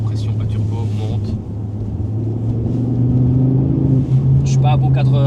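Ford Focus ST MK2 accelerating under turbo boost, a steady in-cabin engine drone that rises in pitch and loudness, with someone talking over it.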